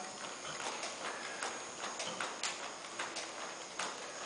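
Horse hooves clip-clop at a steady walking rhythm during riding practice with a new horse, sharp regular hoof strikes on hard ground, fairly close and clear with no talk over them.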